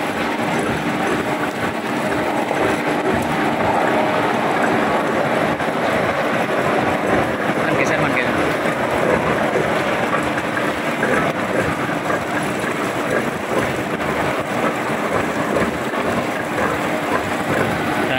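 A rubber sheet rolling machine presses latex sheets thinner, producing a loud, continuous mechanical roar and rumble with steady broadband noise throughout.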